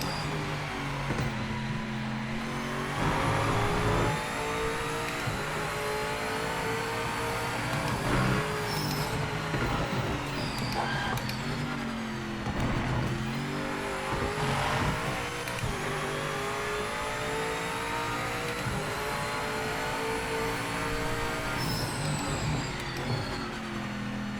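Race car engine in the Project Motor Racing video game, revving hard and climbing through the gears in repeated accelerating sweeps, steady and loud throughout with no talk.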